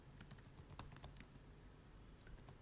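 Quiet, steady typing on a computer keyboard while entering text into an AI app, with rapid irregular key clicks running through the whole stretch and no voices.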